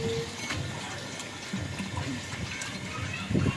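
Water runs steadily into a container with a continuous splashing rush, close by, with no talking.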